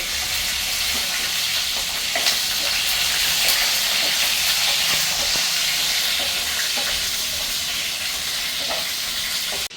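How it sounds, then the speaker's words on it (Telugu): Small sambar onions, drumstick, bottle gourd, carrot and sweet potato pieces hit a hot pan for an old-style vegetable tamarind stew. A loud, steady hiss of frying and steam holds throughout, then cuts off at the very end. "ఇప్పుడైతే సాంబార్ ఉల్లిపాయలు వేసేసుకుంటున్నాను."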